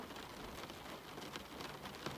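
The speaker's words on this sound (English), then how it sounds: "The rain had been falling for a while now." Steady rain falls in an even, continuous hiss with soft patter on surfaces, quiet and unbroken throughout, no voices.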